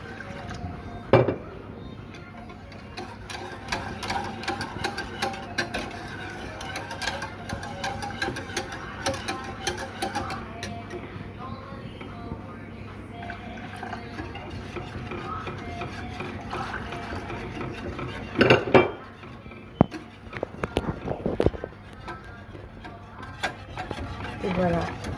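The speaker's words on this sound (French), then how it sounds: "Donc vraiment bien fouetter au fur et à mesure." Milk being whisked into a béchamel sauce in a pan for a cauliflower gratin, with continuous light metallic whisk scraping and a few sharper clinks, heard up close for about 25 seconds.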